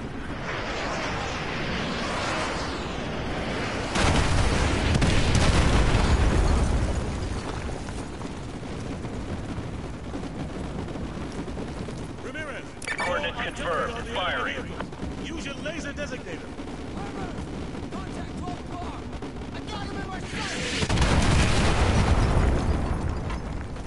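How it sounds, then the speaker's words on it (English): Artillery strike explosions in Call of Duty Modern Warfare 2, with two heavy booming blasts several seconds apart over constant battlefield noise and radio chatter; voices talk throughout. "use your laser designator to call in artillery on those vehicles. Fire mission received. Artillery inbound."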